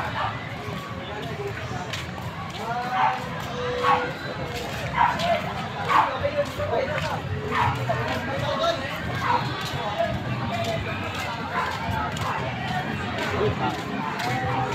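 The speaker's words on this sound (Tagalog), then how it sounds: "May mga naglalaro pa aso." Dogs play and yip with scattered short barks across a large outdoor resort lawn, heard at a moderate distance under steady crowd murmur and nearby talking.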